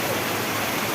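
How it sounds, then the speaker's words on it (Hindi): Rainwater in Jaisalmer rushes like a river down a road after heavy monsoon rain, a dense steady roar of flowing water with no pauses and no voices. "देखिए गुलासतला रोड के ऊपर बहता हुआ ये सुंदर नदी की तरह पानी।"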